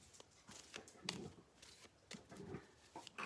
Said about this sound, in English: Oh, my little doggy.